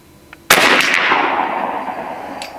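A single sharp, loud shot from a B&W Bin Tac M50 PCP air rifle on an outdoor range, a sudden crack followed by a long fading ring, with a faint tick shortly before.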